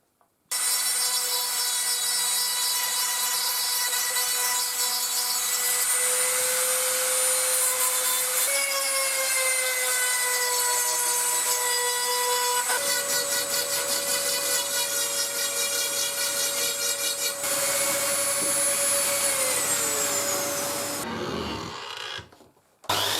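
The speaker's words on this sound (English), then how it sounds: "now I've just got to do some sanding with the rotary tool and some carving" Rotary tool sanding and carving plywood on a Viking ship build, a loud continuous high whine that shifts pitch as it bites, then winds down at the end.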